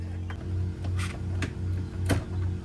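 A BMW X7 interior trim panel being pried loose gives a few sharp clicks and snaps spaced about half a second apart, close and moderately loud over a steady low hum.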